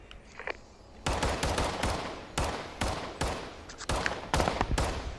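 Pistol shots ring out in a video game, a rapid series of sharp, loud cracks fired in quick irregular succession over a few seconds with no talking.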